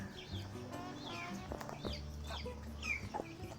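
Chickens cluck softly and intermittently while being fed pomegranate, quiet, close calls over low background noise.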